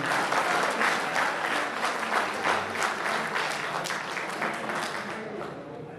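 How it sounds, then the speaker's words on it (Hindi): An audience at an Urdu poetry recital bursts into full applause, a close, dense clatter of many hands that stays strong for several seconds before gradually thinning and fading toward the end. "एक बार भरपूर तालियां बजा दें भाई।"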